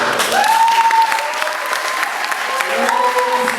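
An audience in a hall at a Togolese cultural days event in Morocco breaks into loud, sustained applause, dense clapping filling the room with a few cheers and whistles rising above it.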